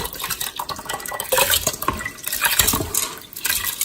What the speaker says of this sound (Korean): 우리가 그냥 밥할 때보다 좀 밥물을 많이 부세요.